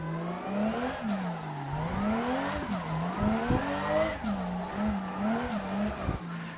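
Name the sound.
car wheels spinning while drifting in video game Assetto Corsa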